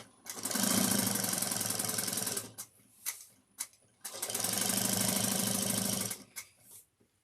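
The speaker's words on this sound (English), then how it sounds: "we're going to top stitch it at 1/8 of an inch." A sewing machine top stitches a slip pocket on a slouch shoulder bag in two long, steady runs of rapid whirring, separated by short clicks and handling noises, close by.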